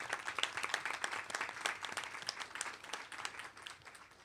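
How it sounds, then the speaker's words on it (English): A round of applause at a school community meeting, many hands clapping in a dense, fairly faint wash that slowly tapers toward the end. "May we offer a round of applause for Ms."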